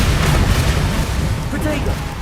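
Bombarda spell blasts from a Hogwarts Legacy battle, a dense continuous rumble of booming explosions under a voice calling out spell names.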